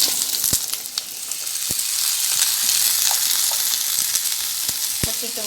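Sliced potatoes fry in oil on an iron tawa with a steady, close hiss and sizzle, broken by scattered sharp crackles and pops and a few clicks of stirring near the end.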